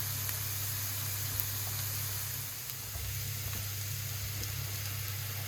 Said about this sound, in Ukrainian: Висипаю гриби і смажу до золотистої скоринки